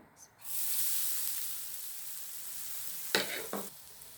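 Grated coconut dropped into hot coconut oil in a pan sizzles steadily and loudly, with a couple of short stirring scrapes near the end.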